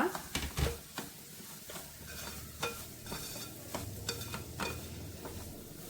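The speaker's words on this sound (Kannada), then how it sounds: "ಹುರಿದಿಟ್ಟಂಥ ರವೆನ ಹಾಕ್ತಾ ಇದ್ದೀನಿ. ಒಂದು ಬಾರಿ ಇದನ್ನು ಮಿಕ್ಸ್ ಮಾಡ್ಕೊಳ್ಳೋಣ." Roasted semolina (rava) being stirred in a pan with green peas upma ingredients, a steady scraping and light sizzling with soft irregular clinks of the spoon, close and moderate in level, no talking.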